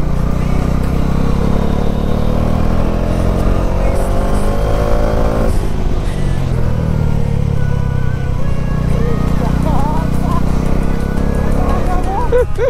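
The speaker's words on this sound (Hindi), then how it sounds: "पूरा लेटा के बाइक को ले जा रहा है गाइस" A Dominar 400 motorcycle engine drones loudly and steadily while climbing a deserted mountain road, a constant heavy roar with shifting pitch as the bike leans through bends, with wind rush and a rider talking over it.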